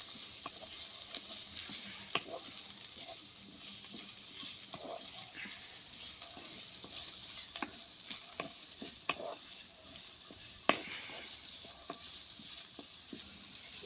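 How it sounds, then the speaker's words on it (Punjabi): Onions softening in a small amount of oil in a pan for a leftover roti breakfast, giving a soft continuous sizzle with scattered stirring scrapes and one sharper clink near the end, quiet and close, no voices. "ਆਪਾਂ ਪਿਆਜ਼ ਵੀ ਆਪਾਂ ਸਿਰਫ 30 ਸਕਿੰਟ ਵਾਸਤੇ ਆਪਾਂ ਨਰਮ ਕੀਤੇ ਨੇ"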